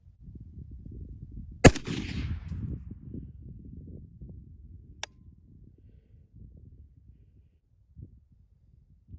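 A single sharp report from a Zastava PAP M77-PS rifle at a shooting range, loud and close, followed by quiet rustling and one faint click later on.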